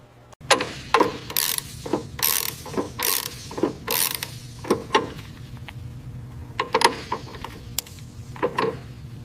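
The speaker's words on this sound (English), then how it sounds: "Hand me the ratchet." Ratchet wrench clicking in bursts during restoration work on a Boeing AH-64A helicopter, sharp metallic ratcheting strokes repeated irregularly, close and fairly loud, with quiet gaps between.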